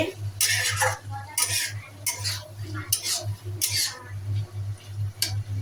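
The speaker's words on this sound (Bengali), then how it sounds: "খুলে নাড়াচাড়া করে নিচ্ছি" Prawns and potatoes being stirred in a pan for a Bengali prawn-and-potato bhuna, with repeated scraping strokes of a spoon against the pan in uneven bursts over a faint sizzle and a low steady hum.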